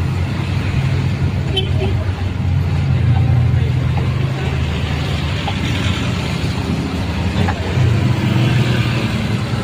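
Busy road traffic on a rainy Saturday, with cars and motorcycles passing in a continuous wash of engine and tire noise and occasional swells as vehicles go by. A voice murmurs faintly underneath.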